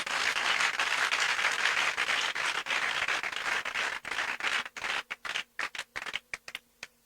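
A church congregation applauds during a Sunday sermon, a dense wash of clapping that thins out toward the end into a handful of separate, sharp claps.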